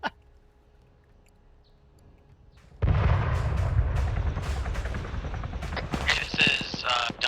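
An autocannon fires in the video game Ghost Recon Advanced Warfighter. After a quiet start, a sudden loud barrage of heavy rapid booms rolls on continuously to the end, with sharper cracks layered on top.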